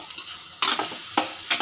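Chopped stinging nettle leaves being stirred and mixed in a hot pan make soft scraping strokes and a light sizzle, with a few distinct louder stirs close to the pan.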